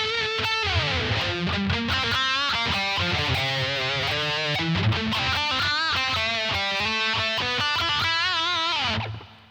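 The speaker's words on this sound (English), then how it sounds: "I'm just doing some crappy lead tones for you, because that's what I do. Here we go. We'll start right here at the bridge" Distorted lead tone from an Epiphone electric guitar on the bridge pickup, a continuous run of fast melodic notes and bends played alone, loud and saturated, ending with an abrupt cutoff.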